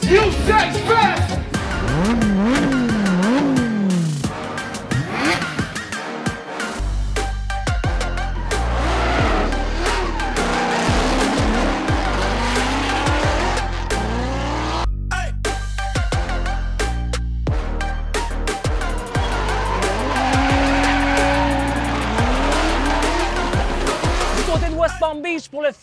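Cars drift at a Fuel Fest drift event in Palm Beach, engines roaring and tires squealing in long, wavering screeches, loud and sustained throughout, with a crowd and voices heard beneath.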